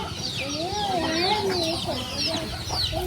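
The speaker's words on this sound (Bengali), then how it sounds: "এই যে এটি সব বাইরের মুরগি, দেন মুরগি বাইরের পিছে পিছে কেমনে ঘুরে।" Chickens in a rural village yard in Bangladesh cluck and murmur repeatedly at close range, with short warbling calls rising and falling over a background of low ambient noise.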